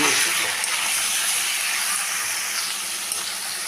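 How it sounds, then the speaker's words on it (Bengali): Marinated chicken searing in a hot pan with spices, a steady, dense sizzle that holds evenly loud for the whole stretch, close up and with no voices over it. "দিয়ে দিলাম এখন ম্যারিনেট করা মাংস। একটু কষিয়ে নেব"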